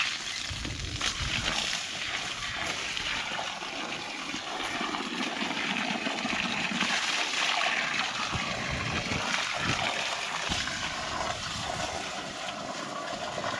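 Water gushes from a pipe onto cashew trees in an orchard, a continuous splashing, sloshing flow with some louder surges, fairly close and steady throughout.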